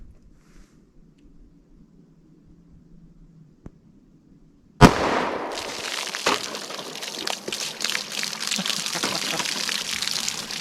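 A 10mm Auto Buffalo Bore round fired into a ballistic box goes off as one sharp, loud crack after quiet, followed by a lingering wash of outdoor noise and scattered clatter.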